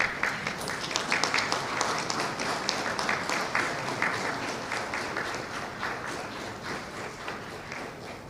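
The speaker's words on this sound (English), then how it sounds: "He'll be delivering the keynote address with a standing ovation and a round of applause." A large audience gives a sustained round of applause for a keynote address, dense steady clapping filling the room for several seconds, with a faint voice briefly under it.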